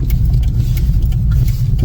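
A car engine that has sat unused for two days runs loud and steady with a low rumbling hum and light rattles, recorded close up.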